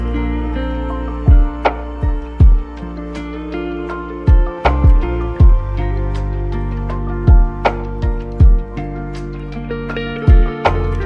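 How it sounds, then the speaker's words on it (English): A mellow lo-fi hip hop beat with deep thumping kicks, crisp snares and bright sustained chords at a relaxed, steady tempo. "a more light, airy, sort of bright sounding lo-fi beat"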